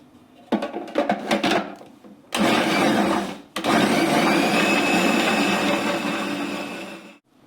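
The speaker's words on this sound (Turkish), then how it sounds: "Bunların hepsini birlikte bir çeksin robot" A food processor whirs loudly as it chops four garlic cloves and half a bunch of parsley, with a few short bursts first and then two long continuous runs that stop abruptly.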